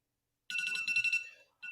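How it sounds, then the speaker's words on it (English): A timer goes off with a rapid, bright electronic beeping pattern that pulses for about a second, pauses briefly, then starts again, loud and alone. "Oh, well, there's the timer, child."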